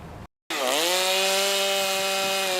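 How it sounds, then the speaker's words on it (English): A chainsaw cutting storm-damaged wood on Pawleys Island after Idalia, starting abruptly after a brief gap and then revving up into a loud, steady, close whine that holds through the cut. "Chainsaws echo throughout a small portion of Pawleys Island just south of Myrtle Beach."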